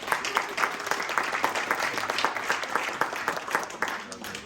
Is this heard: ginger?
no